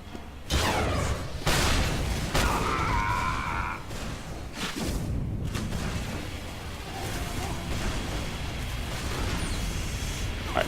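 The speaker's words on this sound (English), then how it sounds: "I almost got hit by the same train again." A train roars through in the Team Fortress 2 video game, with heavy booms and bursts up front giving way to a sustained rumbling wash of noise that lingers to the end.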